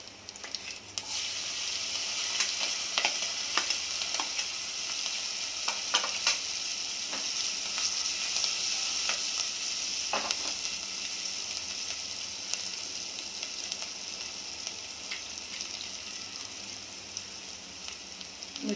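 Green chilies fry in hot oil with golden garlic, a continuous bright sizzle and crackle close by, with occasional clicks of stirring.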